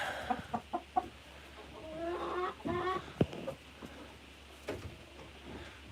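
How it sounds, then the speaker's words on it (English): An old rooster, part of a backyard flock bred with Americana, clucks in a series of short, sharp calls close to the microphone, including a few quick bursts of repeated clucks, with quieter pauses between. "He is my oldest rooster I got."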